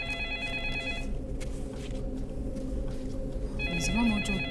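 A home telephone rings indoors, its electronic bell repeating in two bursts separated by a pause, under a steady background of household noise and a brief low voice.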